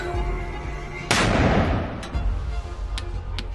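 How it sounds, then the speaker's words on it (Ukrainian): A single artillery shot from border guards firing on targets in the Kherson region cracks out nearby and decays into a rumbling reverberation over steady background noise, followed by a couple of faint distant pops. "Постріл!"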